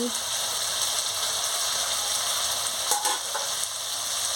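Potatoes, ridge gourd, snake gourd and a fish head sizzle steadily with spices in a hot pan, a loud continuous fry with occasional scraping stirs.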